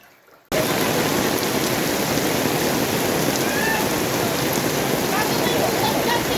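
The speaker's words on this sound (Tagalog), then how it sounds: "Tuloy-tuloy po yung malakas na ulan kaya nakakatakot." Heavy typhoon rain from Typhoon Carina pours in a loud, unbroken roar after a quiet instant at the start, a steady wash of water on surfaces with no pauses.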